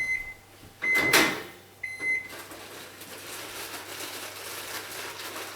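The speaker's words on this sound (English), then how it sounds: "now the apples will come out of the microwave" A microwave oven heating apples for a pie gives a few sharp electronic beeps, with a clunk of the door opening between them, followed by quiet kitchen hiss.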